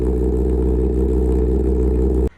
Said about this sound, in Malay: Dia 2 silinder, dia pakai 2 silinder tapi bunyi dia ala-ala Z800.